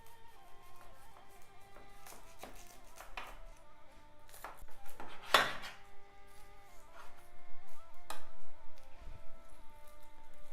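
A knife cuts through a cooled, lung-filled layered pite with scattered taps and scrapes against a tray or plate, one sharper clack in the middle, fairly quiet and close.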